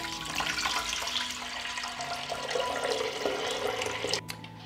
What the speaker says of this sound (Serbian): Moj lonac je zapremine 6 litara i dodajem litar hladne vode.